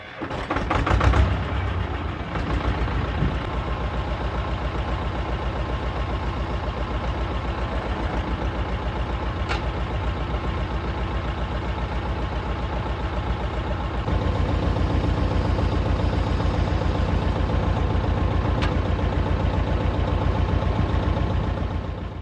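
A T-25 tractor engine idles steadily and loudly after a new hydraulic cylinder is fitted, a continuous low rumble that grows slightly louder partway through, with no talk over it.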